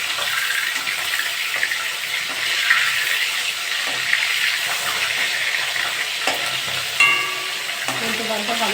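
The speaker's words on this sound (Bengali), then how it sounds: "উল্টে পাল্টা ভালো করে ভেজে নেবো মাছগুলো।" Tilapia fish frying in hot mustard oil in a pan while the pieces are turned over, giving a steady close sizzle throughout with occasional scraping and clinking of the spatula.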